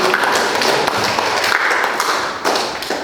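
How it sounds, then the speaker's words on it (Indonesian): Classroom audience clapping after a group presentation, a dense patter of many hands at steady loudness with a few murmuring voices underneath, close and continuous. "Beri tepuk tangan."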